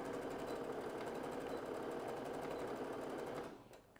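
A sewing machine stitches pocket divisions on a fabric backpack bag, a rapid, steady mechanical chatter close by that runs evenly and then stops abruptly near the end.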